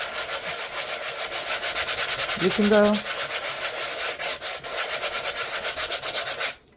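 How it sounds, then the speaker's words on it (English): Sandpaper rubbed by hand in circles across a prepared painting canvas, a continuous rhythmic scratchy rasp close to the microphone, with a short spoken remark partway through. "It's just like any other kind of sanding."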